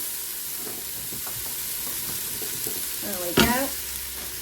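Vegetables sizzle in a multicooker pot on its sauté setting, a constant frying hiss with light stirring, then a louder clatter as potatoes go in; a voice speaks briefly.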